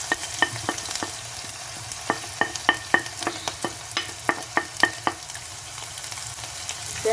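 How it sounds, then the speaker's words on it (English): Garlic and a little onion fry in a pot, a steady sizzle broken by a dozen or so sharp scraping clicks of a spoon stirring against the pot, fairly close and with no voices. "I'm going to be putting garlic and little bit of onion inside the pot."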